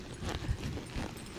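A ridden horse's hooves clop faintly on the ground during a brief turn, with a couple of soft thuds amid quiet background noise.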